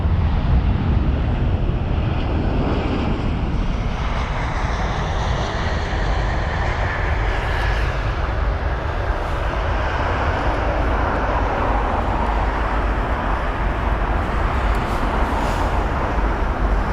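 British Airways Boeing 777-200ER on landing at Heathrow after a long flight, a steady broad jet roar with low rumble holding loud and constant throughout, no talk over it.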